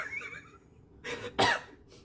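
Two quick coughs in succession, the second louder and harsher, following a faint voice at the start.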